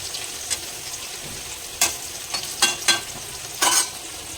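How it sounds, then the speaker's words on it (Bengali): Potatoes for a mutton curry fry in a pan under a soft, steady sizzle, broken by several sharp scraping stirs in the second half, close by and without speech. "আর এদিকে হচ্ছে মাটনের আলুটা একটু ভালো করে ভেজে নিচ্ছি, লাল লাল করে আলুটা ভেজে তুলে নেবো।"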